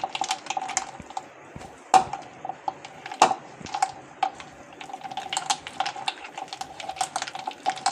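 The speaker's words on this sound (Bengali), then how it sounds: "এই যে নাড়তে নাড়তে এটা একদম মাখনের মতন সাদা হয়ে যাবে।" Ghee being stirred by hand in a bowl until it turns white, quick irregular clicking and soft slapping taps from the utensil, close and fairly quiet, with no talking.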